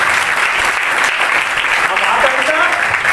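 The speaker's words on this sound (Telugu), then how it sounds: "చప్పట్లు కొట్టండి గట్టిగా." Church congregation at an anniversary meeting clapping loudly and steadily, a dense continuous roar of hands filling the whole stretch, with faint voices mixed in beneath.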